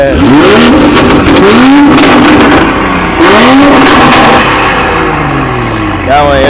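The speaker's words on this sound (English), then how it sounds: "That one M340 sound really good." BMW M340i engine revving at a car meet, loud and close with rising and falling revs in several bursts, with crowd noise and voices around it.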